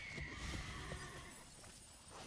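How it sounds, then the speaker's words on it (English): An ostrich horse from an Avatar card game lets out a neigh, a brief whinnying call over steady game background noise, with soft clip-clop-like hits. "The ostrich horse."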